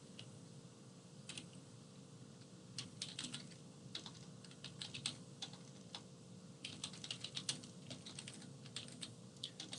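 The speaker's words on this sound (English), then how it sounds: "excuse my typing here." Fast, irregular clicking of typing on a computer keyboard, close and fairly quiet over a steady background hum, with no talking.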